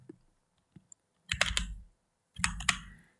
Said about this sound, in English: So I'm gonna type